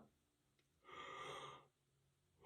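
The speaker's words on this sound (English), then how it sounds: "yawning a lot today" A man yawning once, a single drawn-out breathy exhale lasting under a second, quiet and close in an otherwise still room.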